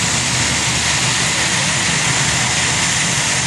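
A 5,400-horsepower pulling vehicle, Plumbers Nightmare, runs at an NCCA regional pulling event in Pinetops, its engine a loud, unbroken roar that fills the whole stretch.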